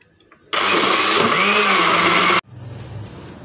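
A kitchen mixer grinder churns cream into butter, its motor roaring in loudly and whirring steadily for about two seconds before cutting off abruptly, leaving a quiet room tone.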